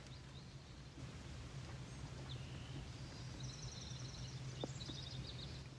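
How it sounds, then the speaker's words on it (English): Bewick's wrens trade short high calls back and forth in a quiet park setting at Chino Hills State Park, faint and distant over a low steady background hum. "That's the Buick's Wren talking back and forth to each other."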